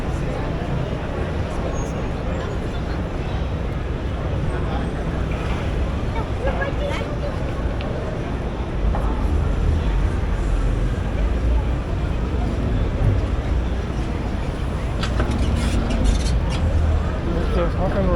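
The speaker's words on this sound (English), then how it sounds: "Now we're in Times Square." Times Square street ambience in New York, a steady dense wash of traffic rumble, crowd murmur and wind buffeting on the microphone, with people talking throughout.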